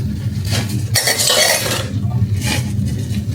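Plates, pots and cutlery washed by hand at a home sink, with a steady clatter and scraping of dishes and utensils over running water, close and fairly loud, and nobody talking.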